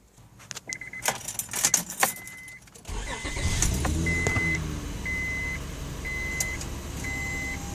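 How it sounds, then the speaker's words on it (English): A 2004 Honda Odyssey with a newly replaced starter and solenoid: keys jangle, then the starter cranks briefly and the engine catches into a steady, close idle that runs on alone with a faint chime. "So let's start the car."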